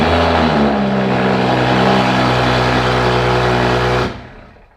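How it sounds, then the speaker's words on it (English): BMW 435i fitted with VRSF 4-inch catless downpipes and a Borla exhaust, idling close and very loud with a deep steady drone and strong low harmonics, then cutting off abruptly near the end. "let's just go ahead and get this done and start it up. The VRSF 4-inch CATLESS downpipe with"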